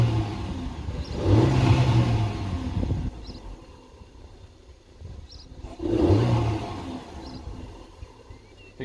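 A VW 1.2 TSI car engine, fitted with a RaceChip tuning module, idles close by. Two separate revs swell and fade back to a quieter idle between them.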